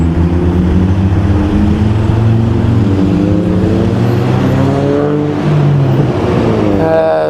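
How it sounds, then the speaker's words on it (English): Road traffic on a street outside an FBI field office, with cars and engines rumbling past continuously and loudly, some revving and harmonic engine tones shifting as vehicles pass close by, no voices. "Just looking at the cars go by."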